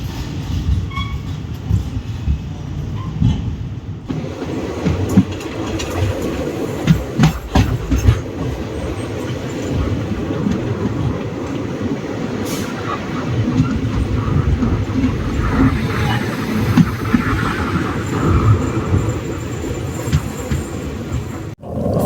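The 12603 Hyderabad Superfast Express from Chennai to Hyderabad rolls along the rails, with a steady rumbling roar and rhythmic clickety-clack of wheels heard from inside the moving train.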